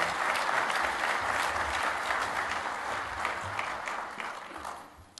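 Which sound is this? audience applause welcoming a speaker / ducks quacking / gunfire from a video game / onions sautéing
audience applause welcoming a speaker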